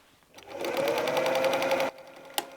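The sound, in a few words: sewing machine joining two fabric pieces for patchwork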